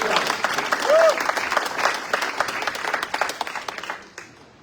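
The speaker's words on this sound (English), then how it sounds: "Please give a warm applause to our candidates for Rockwall City Council." Audience applause for Rockwall City Council candidates at a city council forum, a loud dense wash of clapping that swells early and then tapers off toward the end.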